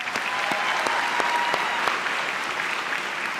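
Steady applause from a graduation audience fills the room at an even level, with many hands clapping as a dense wash and a few sharper claps standing out; no voices rise above it.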